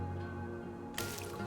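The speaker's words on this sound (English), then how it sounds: "Oh, there's snow falling off my roof." Melting snow slides off a roof with a sudden soft whoosh and crumbly splatter, bursting in midway after a steady low hum.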